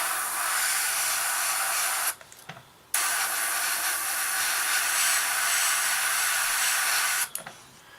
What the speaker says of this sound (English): pin down for airbrushing, and that's going to be sprayed just light coat